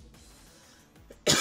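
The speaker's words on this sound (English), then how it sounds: "Unedited cough." A single sharp cough bursts out at the very end after near silence.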